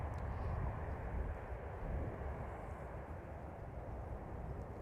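A departing airliner taking off from runway 24 at Amsterdam Schiphol, a steady distant low jet roar and rumble heard without any voices.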